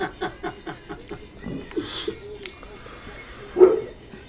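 A dog barks a few times in a home, with short sharp yips among people talking and laughing, and one louder bark standing out near the end.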